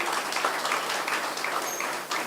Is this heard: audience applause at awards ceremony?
yes